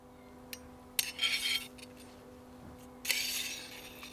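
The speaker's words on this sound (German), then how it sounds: "ich ziehe sie direkt vom Spieß auf den Teller" Metal skewer clinks and scrapes against a plate as grilled monkfish saltimbocca is slid off the hot spit, with a few short separate clinks and two brighter bursts of scraping over a quiet background.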